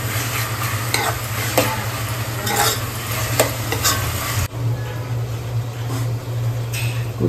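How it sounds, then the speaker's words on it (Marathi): Ingredients with asafoetida roast in hot oil in a pan, a continuous near sizzle broken by regular spatula strokes and scrapes. "टाकून झाल्यावर तेलामध्ये जरा भाजून घ्यायचं।"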